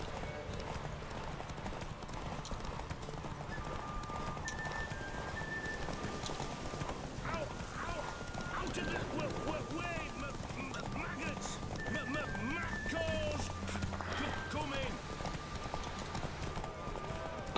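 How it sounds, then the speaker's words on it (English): Hooves clip-clop steadily with repeated horse whinnies in The Witcher 3, layered with game music and ambience while someone talks over it throughout. "¿Por qué se me ha parado el caballo?"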